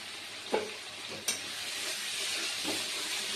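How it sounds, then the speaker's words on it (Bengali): Spiced masala with salt, turmeric and sugar sautéing in oil for an omelette curry, giving a continuous hissing sizzle with a few distinct stirring knocks early on. No one talks. "দিয়ে ওটাকে আমি ভালো করে কষাতে দেবো"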